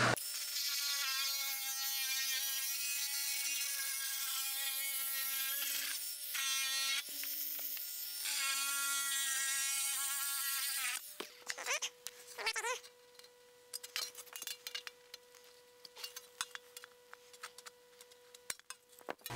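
A headlight joggle is cut out of a Jaguar E-Type fender panel by a power tool, which whines loud and steady for about eleven seconds, then gives way to sharp irregular clanks and scraping of sheet metal.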